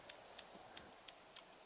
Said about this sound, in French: t'as les coups de ciseaux là